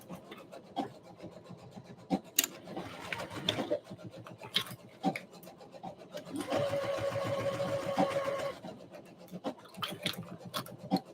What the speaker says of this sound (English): Just sewing away as one does on a Monday evening.